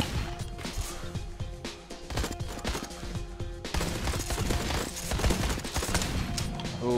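Rapid shotgun blasts in a first-person shooter on an Out of Ammo Vertigo mission, several sharp reports firing close together over dense game sound, with a loud burst of fire in the second half and no talk.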